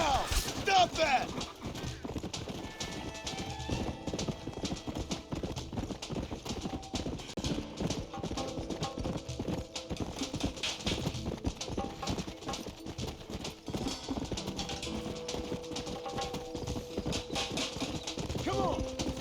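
Horse hooves clip-clopping in the video game Red Dead Redemption, a steady rhythmic trot of hoofbeats that runs throughout, with game voices shouting over it.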